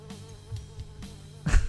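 A housefly in Fly Simulator buzzes with a thin, continuous drone, marked by soft periodic thumps and ending in a louder rustling burst.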